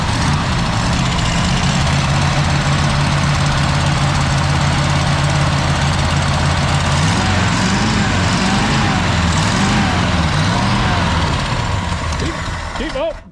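A 1965 Ford Galaxie 500 engine, revived after long storage, runs with a low steady droning idle that wavers and surges midway, loud and close, with people talking over it.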